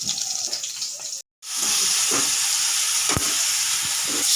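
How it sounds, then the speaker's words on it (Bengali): Loud, steady sizzling of fish frying in hot oil in a pan, close by, with a brief cut-out near the start and occasional pops and utensil taps. "মাছ ভাজা চলতেছে"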